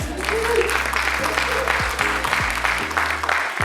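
An audience claps at a book launch event, a short burst of applause over steady tonal music with bass notes, fairly loud and close.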